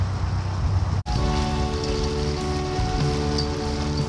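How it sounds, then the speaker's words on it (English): Light rain spatters steadily on a narrowboat moored along a canal between Somerton and Aynho, a continuous soft hiss with a brief dropout near the start. "there's just a few spots of rain about now"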